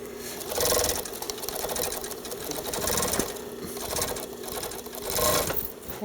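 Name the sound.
sewing machine stitching jeans fabric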